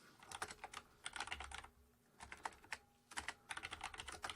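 Fingers type on a computer keyboard in quick bursts of soft, close key clicks, broken by short pauses between runs.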